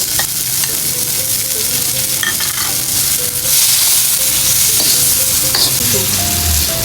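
Chopped tomatoes hit a hot frying pan for ginisang mais and sizzle loudly and continuously, with intermittent scraping and clinking of a utensil stirring the pan.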